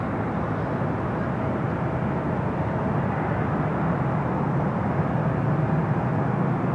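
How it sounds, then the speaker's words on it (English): An American Airlines Boeing 777 arriving from London Heathrow comes in to land at a busy airport, a steady, loud, broadband jet roar that holds level throughout with no voices over it. "this is the American 777 coming in from London Heathrow"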